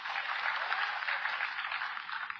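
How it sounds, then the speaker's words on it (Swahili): A crowd at a dairy farmers' field day applauds steadily, a dense broadband patter of many hands clapping continuously at moderate distance, without pause. "Wapigie makofi hao watu."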